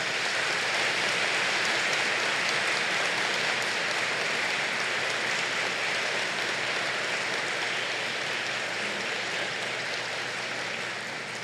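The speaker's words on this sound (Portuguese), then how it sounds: "Uma salva de palmas a Dom Antônio Fernando." A church congregation at a Mass of installation for a new bishop claps in a long, steady wash of applause, a soft dense patter with no pauses that eases slightly toward the end.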